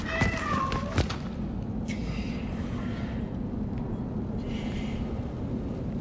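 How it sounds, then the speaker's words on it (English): A cat meows in Cronos: The New Dawn, a couple of short, high calls near the start over a low, steady ambient hum that carries on alone afterward. "There's another cat in there. I could hear it."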